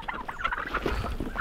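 Farm fowl, chickens and turkeys gathered on icy ground at feeding time, give a close, busy stretch of overlapping gobbles and clucks with no talk.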